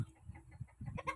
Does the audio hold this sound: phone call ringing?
no